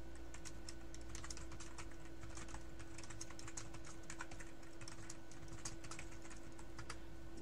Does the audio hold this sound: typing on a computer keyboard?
yes